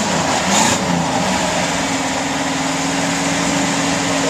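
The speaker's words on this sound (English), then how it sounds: "It is a mild sounding car" A 1966 Ford Fairlane 500 with a 390 V8 and four-speed idles close by, a steady, mild low rumble with a brief rise near the start and no talking.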